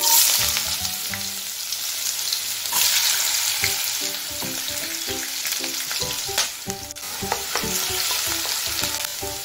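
Cut potato fries in oil in a wok for paneer fried rice, a loud continuous sizzle with frequent clinks and scrapes of stirring, close up with no talk.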